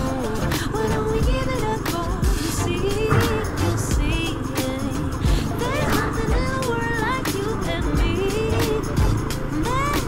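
A vehicle drives a dusty track of fine dust beside a cliff edge, its loud, steady engine and tire rumble continuous throughout with rattling over the rough surface.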